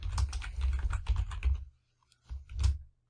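Quick bursts of typing on a computer keyboard, close and crisp, a rapid run of keystrokes, a brief pause, then a few more taps, with no voice.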